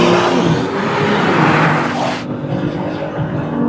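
A race car at full throttle on the Circuit Paul Ricard, a loud, close engine roar that holds strongly and then drops off sharply partway through, leaving a fainter rumble.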